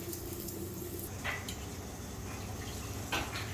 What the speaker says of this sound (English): That's the sound of pupusa cooking.